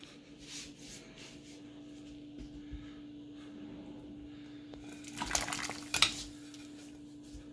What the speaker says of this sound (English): Now I'll just pour this into the pot with the chickens.